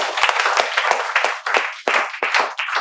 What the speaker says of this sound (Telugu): మేమందరం చప్పట్లతో వెల్కమ్ చెప్తున్నాం